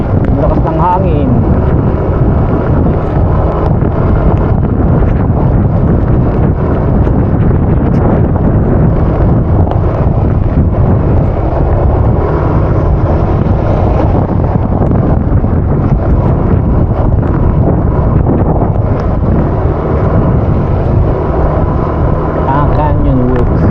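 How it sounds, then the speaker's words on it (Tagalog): Loud, steady wind buffets an open-air microphone on a hillside above a subdivision, a dense rumbling rush that persists without letup, with gusts rising and falling throughout. "Uy, ang lakas ng hangin."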